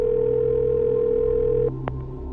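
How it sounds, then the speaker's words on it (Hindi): A loud, steady phone call tone hums continuously in a horror audio story, then cuts off and is followed by a short beep over a low droning background. "पैलेस में देव अपना फोन हाथ में पकड़े किसी को कॉल कर रहा था।"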